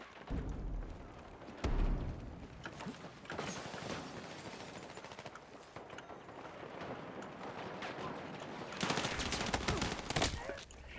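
Battlefield 6 gunfire rattles in repeated automatic bursts and single sharp cracks, with a heavy thump early and a dense, loud volley near the end, mechanical clicks scattered between shots.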